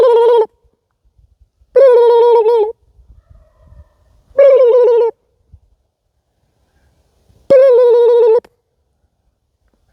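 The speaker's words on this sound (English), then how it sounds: "Look at the turkeys." Four loud wild turkey gobbling calls ring out in separate bursts, each about a second long, with quiet gaps between them.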